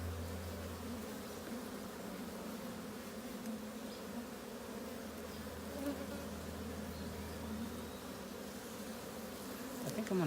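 Honeybees buzz around an open hive during a queen introduction check, a constant low droning hum with individual bees passing close to the microphone.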